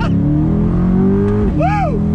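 A loud C8 Corvette Z51 convertible engine drones steadily, then its pitch swoops up sharply as the car accelerates hard, close by.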